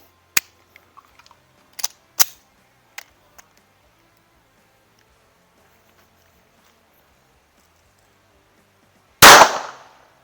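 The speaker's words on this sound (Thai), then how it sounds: "ยิงไปสองนัดแล้วนะครับ จากจำนวนห้านัดนะครับนัดที่สามนะครับ" Several sharp pistol shots from a Sig P365 firing .380 rounds, irregularly spaced over the first few seconds, followed by a longer loud blast near the end; no talking.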